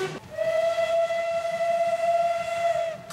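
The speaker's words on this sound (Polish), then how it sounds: "20. parada parowozów w Wolsztynie była wyjątkowa." Steam locomotive whistle at the Wolsztyn steam locomotive parade, one long steady blast held for nearly three seconds over a rumbling, chuffing engine and rail noise, loud and close.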